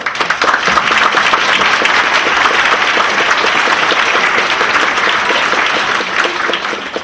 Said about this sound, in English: I'm going to pause here and ask you to give all of yourselves a round of applause for making that happen.